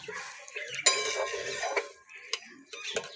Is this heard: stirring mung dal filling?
yes